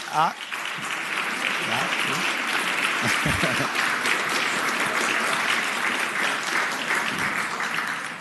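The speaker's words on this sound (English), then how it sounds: "So you definitely deserve 2 rounds of applause" Sustained applause rises from the floor and gallery of the Virginia Senate chamber for visiting Scouts, a dense, even wash of many hands clapping close and loud throughout, with faint murmurs underneath.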